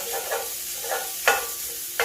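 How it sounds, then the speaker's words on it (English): Sausage cooks in a pan with a soft, steady frying hiss while a wooden spoon stirs and chops it, giving a few light scraping knocks. "as soon as sausage hits the pan, y'all, it's a yes."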